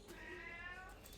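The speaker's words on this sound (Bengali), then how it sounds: "বিড়াল চারদিকে, টিনের চালের উপরে বিড়াল, ওই যে সামনে বিড়াল" Cat meowing outdoors near a tin-roofed house, a single drawn-out, faint cry heard alone at a distance.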